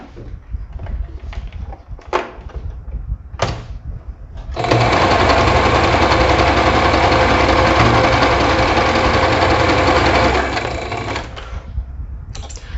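Household sewing machine running a zigzag finish along a garment's shoulder seams: quiet handling and a few taps, then a loud continuous whirring run of stitching for about six seconds that winds down into soft rustling.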